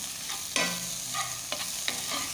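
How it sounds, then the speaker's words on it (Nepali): Ginger garlic paste frying with onion in a pan makes a steady close sizzle, broken by a few distinct spatula scrapes and stirring strokes, with no talk. "यसरी रातो भइसकेपछि हामी अघिको अदुवा र लसुनको पेस्टलाई पनि यसै गरी मजाले फ्राई गर्छौं र बिस्तारै चलाउँदै जान्छौं।"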